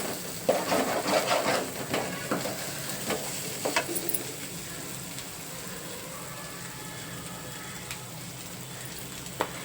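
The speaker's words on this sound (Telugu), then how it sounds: "బాగా ఈ అల్లం వెల్లుల్లిపాయ పేస్ట్ వేసుకున్న తర్వాత ఇది కూడా పచ్చివాసన పోయేంత వరకు జాగ్రత్తగా వేయించేసుకోవాలి" Ginger garlic paste frying in a pan for a korameenu fish curry, a steady soft sizzle with occasional stirring scrapes and spoon clinks, louder early on then settling into a quiet continuous hiss.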